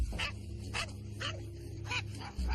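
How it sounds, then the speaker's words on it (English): A dog that is aggressive toward other dogs and animals gives several sharp barks spaced through the moment, with whimpering in between, close and fairly loud over a low steady hum. "Sandy has, and has always had, really, a dog named Simon who is just a terror"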